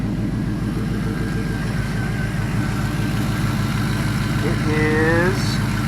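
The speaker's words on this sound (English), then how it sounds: "Let's crank it up. Idles real good." A rebuilt LM7 5.3L LS V8 with an LS1 cam and new crank idles steadily close by, a low, even rumble with a faint whine, while someone speaks briefly over it.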